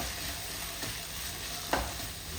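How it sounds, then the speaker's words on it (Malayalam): Frozen green peas tipped into a pan of frying potato and carrot for a vegetable pulav, giving a steady close sizzle and stirring with one brief clatter as they land, no talking. "ഞാനിതിലേക്ക് ഇട്ട് കൊടുക്കുന്ന ഗ്രീൻ പീസാണ്"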